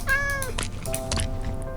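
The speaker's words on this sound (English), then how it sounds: "we just got a pet cat as well, and I was like, why not? We might as well try taming a cat" Video-game cat meowing in a Minecraft-style world, two or three clear, close meows in quick succession, with a steady low background hum underneath and no talking.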